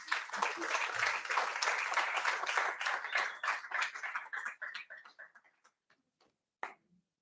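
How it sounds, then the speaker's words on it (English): An audience gives a round of applause at a youth summit, with dense, close clapping that thins into scattered individual claps before stopping, followed by one last clap. "let us give him a round of applause"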